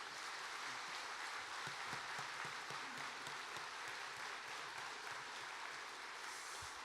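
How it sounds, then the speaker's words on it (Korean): A church congregation claps to welcome a pastor at an evening revival meeting. The applause is steady and dense but distant and quiet, and it continues evenly for several seconds. "크게 박수로 환영해 주시면 좋겠습니다."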